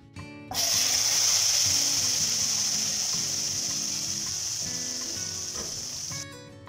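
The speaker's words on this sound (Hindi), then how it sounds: "जब तड़के की ये आवाज़ आती है तो मुझे तो बहुत ही ज़्यादा अच्छी लगती है" Tempering spices hit hot oil with a sudden loud sizzle that crackles steadily for several seconds, fading slightly before stopping.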